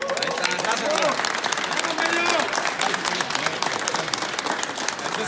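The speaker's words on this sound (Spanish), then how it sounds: "el aplauso es para Fernando y para la marca Melo" A live crowd at a sonidero dance event breaks into sustained audience applause, dense clapping with cheers, while a voice talks over it on a loudspeaker.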